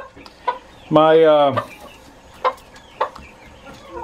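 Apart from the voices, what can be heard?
chickens and roosters clucking in coop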